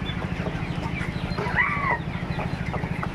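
Tiger chickens at a two-storey poultry farm in Khulna cluck and chirp continuously, with soft overlapping calls from many birds nearby and a steady low farmyard hum beneath.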